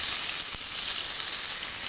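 Onion and green chillies hit a hot pan and a bright, steady hiss of sizzling fills the moment, close and fairly loud, with a brief thump partway through and no voices.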